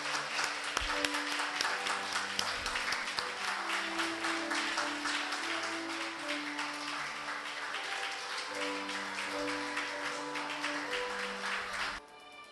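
Wedding guests clap to welcome the mothers' entrance at a ceremony, a steady patter of scattered hands under sustained music that cuts off near the end.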